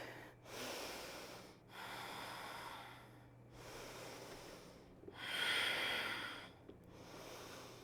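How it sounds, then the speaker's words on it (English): Steady breathing through a yoga Warrior 1 pose: long, airy inhales and exhales follow one another in an even rhythm across several seconds, one breath louder and rougher than the rest, close up with no talking. "5 steady breaths"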